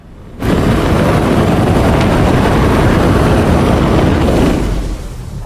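A spacecraft engine, the Origin M80 in the Star Citizen game, roars loud and continuous at full power, a dense rumbling wash that eases off slightly near the end.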